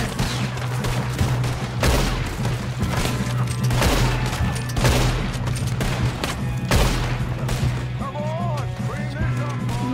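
Gunfire in the video game Red Dead Redemption 2 during a train robbery, with loud repeated shots and crashes over a constant train rumble and busy game sound.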